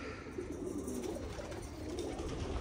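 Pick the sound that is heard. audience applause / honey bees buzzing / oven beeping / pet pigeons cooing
pet pigeons cooing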